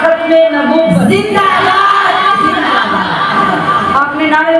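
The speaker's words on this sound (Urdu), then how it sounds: "آپ نے نعرے لگا لیے" Large crowd at a Khatm-e-Nabouwat religious gathering on 12 Rabi ul Awal chanting religious slogans together, loud massed voices with shouts and cheering swelling and falling close by.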